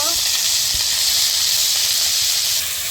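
Onion and garlic paste fries in hot oil that already holds whole cumin, a steady loud hiss with a faint low rumble beneath it throughout.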